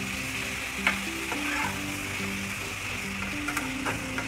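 Whole spices with a little sugar and salt sizzle and are stirred in a hot pan for restaurant-style butter paneer, a steady close frying crackle with occasional spoon scrapes under soft tonal background music.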